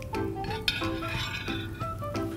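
A spoon stirs milk and vinegar in a bowl in a home kitchen, giving repeated light clinks and scrapes against the bowl in a steady rhythm, close and clear.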